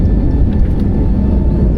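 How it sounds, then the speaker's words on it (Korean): A passenger airplane accelerating down the runway and lifting off, heard from inside the cabin as a loud, steady low engine rumble and roar with no voices. "속도가 붙고 바퀴가 지면을 떠나는 순간"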